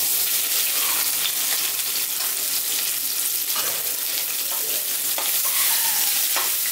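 Onions frying in hot oil for chicken salna, giving a steady, dense close sizzle with occasional stirring scrapes, loud and unbroken throughout with no talking.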